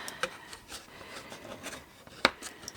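Folds of a paper tuck-and-fold no-glue box are burnished firmly by hand, giving soft scraping rubs with a few sharper clicks, close and quiet, with no talk.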